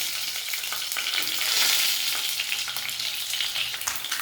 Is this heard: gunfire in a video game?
no